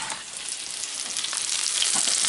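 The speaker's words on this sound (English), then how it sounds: "I got my onions grilling up a little bit." Onions for a blue cheese burger grill on a hot surface, giving a steady close crackling sizzle that grows slightly louder over a couple of seconds, with no voices.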